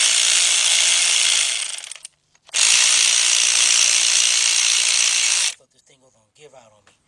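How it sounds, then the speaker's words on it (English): A cordless 3/8-inch drive ratchet with an 18mm shallow socket whirs loudly in two bursts separated by a short pause, working a fastener during a timing chain job, then stops and is followed by quiet clicks and handling sounds. "I've got my cordless ratchet, 3/8 drive ratchet, and I had an 18mm shallow 3/8 drive socket."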